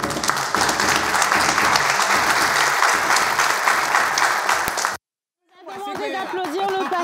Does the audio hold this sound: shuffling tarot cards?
no